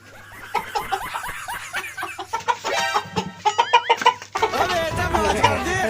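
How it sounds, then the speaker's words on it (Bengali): Chickens clucking and cackling in a rural yard, a series of close, irregular bursts mixed with human chatter and laughter in the background. "মুরগি কক কক করতে যাই তো দেখি আসি"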